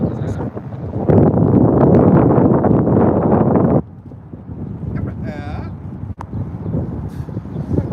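Strong wind buffets a microphone outdoors, loud rumbling gusts that ease partway through, with faint voices underneath.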